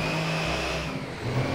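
Loaded truck engine in GTA 5 holding a steady mid-pitched drone that rises slightly as it accelerates, continuous and fairly loud with no talk over it.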